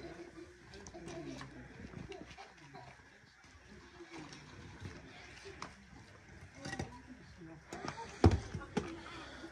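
Pigeons coo softly through a busy outdoor scene, their low calls mixed with people talking nearby and occasional knocks and bumps, with one sharper thud near the end.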